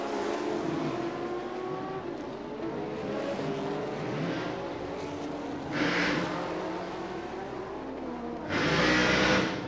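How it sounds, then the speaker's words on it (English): A loud race car engine drones steadily with shifting harmonic pitch, heard in the pits at a street circuit race, punctuated by two bursts of brighter hissy noise near the end; no one speaks. "Can you hear that engine?"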